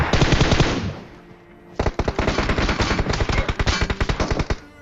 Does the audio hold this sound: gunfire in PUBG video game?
yes